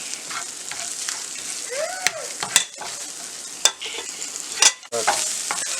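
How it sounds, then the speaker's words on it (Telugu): Salt, chili, coriander powder and turmeric fry in a pan with a continuous close sizzle, punctuated by a few sharp scraping clicks as the spices are stirred. "ఒక స్పూన్ ఉప్పు, 1 స్పూను కారం, ధనియాల పొడి 1/2 స్పూను, పసుపు 1/2 స్పూన్ వేసుకొని ఫ్రై చేసుకోవాలి."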